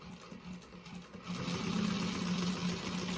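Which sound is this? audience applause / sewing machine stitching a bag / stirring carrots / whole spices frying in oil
sewing machine stitching a bag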